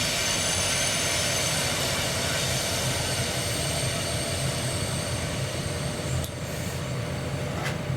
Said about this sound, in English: so we've got a train going past